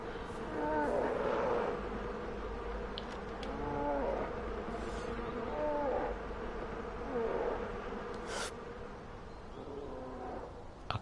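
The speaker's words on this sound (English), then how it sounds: "Okay, so the bear left because of the bees." A swarm of bees drones steadily up close in the Far Cry 4 video game while a bear's growls and low moans rise and fall over the buzzing across the whole stretch.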